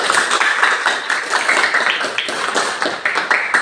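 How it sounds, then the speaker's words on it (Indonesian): A class of children claps hands together, a dense crowd of quick overlapping claps, loud and close, with no break. "Oke, tepuk tangan semuanya."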